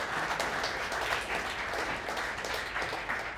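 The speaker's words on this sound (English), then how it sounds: "Don't clap for that." A live audience at a comedy podcast taping applauds, a steady wash of many hands clapping at moderate loudness, sustained without speech over it.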